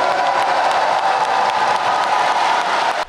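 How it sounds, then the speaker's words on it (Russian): Packed stands at a synchronized swimming show break into loud, continuous applause and crowd noise, a dense, steady wash of clapping that holds evenly for about three seconds before cutting off abruptly. "Переполненные трибуны, несмолкаемые овации и даже слезы."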